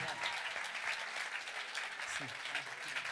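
A concert audience at a live event gives steady, dense applause for the singer, a broad wash of clapping that fills the room with only brief pauses.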